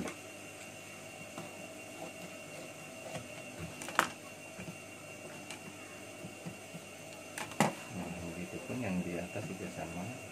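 A sewing machine stitches the side pocket of scout uniform trousers with a steady mechanical hum and a few sharp clicks. A voice talks faintly toward the end.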